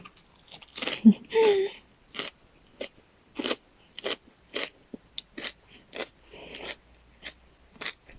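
Fresh garden radicchio leaves are eaten with tam sua salad. Close, sharp crunchy bites are followed by a string of quieter chewing crunches, with a voice talking briefly between them.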